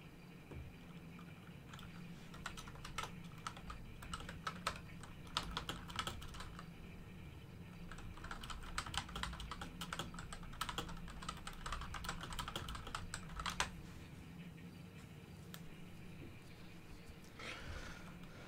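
Computer keyboard keys tapped in irregular bursts while a password is entered, close and moderately loud, with short pauses between clusters of clicks and a low background hum.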